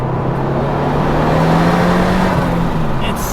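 A twin-turbo Datsun 240Z engine pulls hard under acceleration, a loud close roar with a rising tone that climbs steadily before easing off at the end.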